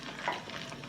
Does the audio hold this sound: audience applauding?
no